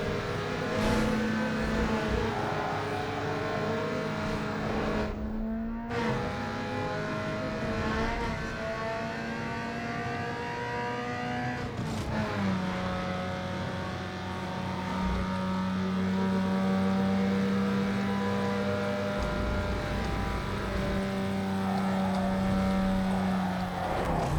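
Race car engines roaring in the video game Need for Speed Underground 2 during a four-lap URL circuit race, a continuous loud droning whine that rises in pitch, drops sharply at gear shifts, and climbs again.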